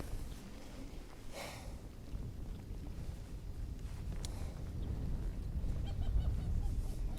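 Strong, steady wind buffets an open boat while fishing, a constant low roar across the whole stretch that grows a little louder toward the end.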